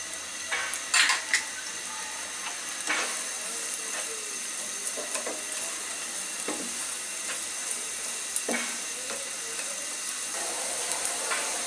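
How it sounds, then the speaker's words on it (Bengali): Chopped garlic and onion fry gently in a pan for a Bangladeshi cream of mushroom soup, giving a faint steady sizzle broken by occasional scrapes and clinks of a spatula stirring. "আর কিছু রসুন কুচি দিয়ে এগুলাকে আমি একটু হালকা করে ভাজবো"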